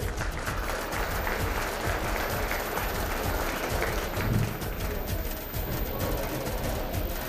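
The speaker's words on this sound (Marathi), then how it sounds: "तिच्यासाठी सुद्धा एकदा जोरदार टाळ्या झाल्या पाहिजेत." A crowd at a school annual prize-distribution ceremony claps loudly and steadily for a student awarded a bronze medal, a dense sustained applause with no talk.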